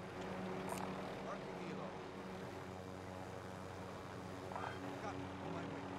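Helicopter in a video game, a steady engine and rotor drone running continuously throughout, moderately loud under overlapping excited voices of players talking.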